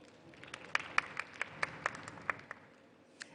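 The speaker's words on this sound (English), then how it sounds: "and we all deserve a round of applause." Faint, sparse handclaps sound in a summit hall during a women's keynote, each sharp clap spaced about a quarter second apart over a quiet room.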